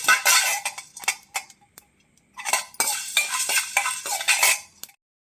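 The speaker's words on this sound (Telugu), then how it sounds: "ఇప్పుడు అదే స్పూన్తో రెండు స్పూన్లు ధనియాలు వేసుకోండి ఇది దోరగా వేయించుకోండి" Coriander seeds roasting in a pan, stirred with a spoon: a run of close metallic scraping and clinking strokes in irregular bursts, with a short pause midway and no talk.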